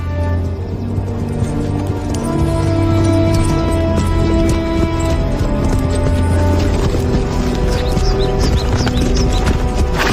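Horses walk along with a steady, continuous clip-clop of hooves, moderately close, layered with a low rumbling background and faint voices.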